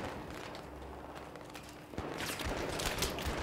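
A rattling burst of rapid gunfire during a Battlefield 3 co-op mission, several overlapping shots swelling in the second half over steady background combat noise, with no voices.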